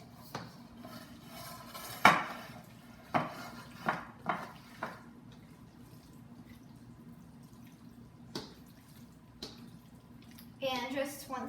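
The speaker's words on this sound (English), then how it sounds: "now you're just going to pour in your casserole from the bowl into" Casserole scraped and poured from a bowl into a baking pan: scattered clinks and knocks of utensil on dish, soft wet plops and a brief clatter near the end, under a quiet voice.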